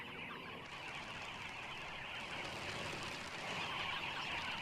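A noisy flock of dozens of birds comes and goes at an African watering spot, making a dense, continuous chatter and bustle of calls and wingbeats that holds steady and swells slightly toward the end.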